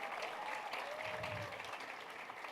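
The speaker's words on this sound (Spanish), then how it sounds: "un aplauso" Faint, steady applause from a conference audience, a soft continuous wash of clapping heard from a distance with a faint tone drifting over it.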